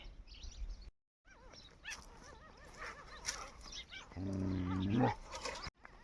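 A nearby village dog whines and whimpers in rising, wavering cries, mixed with short yips and a low growl, broken by a brief silent gap.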